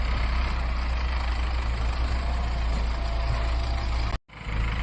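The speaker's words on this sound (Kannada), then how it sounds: "ಈಗ ನಮ್ಮ ಗಾಡಿಗೆ ರಿವರ್ಸ್ ಹೊಡಿತಾವ್ರು ನಮ್ಮ ತಂದೆಯಲ್ಲಿ" A loaded goods truck's engine labours while reversing uphill, a steady close low rumble that runs on unbroken and then cuts out in a brief dropout near the end before resuming.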